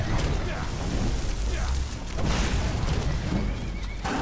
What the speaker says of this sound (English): That horse is really doing work on him.